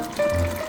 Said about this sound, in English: We put in some crushed tomatoes in there.